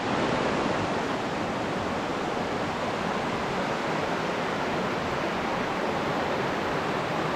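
Steady, loud roar of rushing water from river rapids or a waterfall in a Lapland wilderness during autumn colours, a continuous broadband rush with no voices over it.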